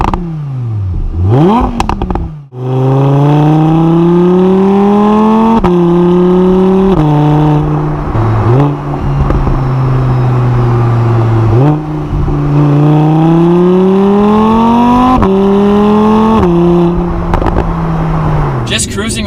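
A 2020 Audi R8 V10 Quattro driving and accelerating through repeated gear changes, its engine note climbing steadily in pitch and dropping at each shift, loud and continuous from inside the car.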